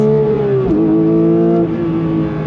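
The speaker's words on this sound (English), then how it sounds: "Drop it down to second gear. On throttle, here we go." A 2022 Porsche 911 GT3 engine revs hard in second gear: a loud, close, continuous high-pitched howl that dips briefly, then climbs again.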